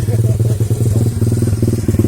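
A dirt bike motorcycle engine runs close by with a rapid, steady firing pulse and busy mechanical clatter, held at a lively idle with slight revving throughout.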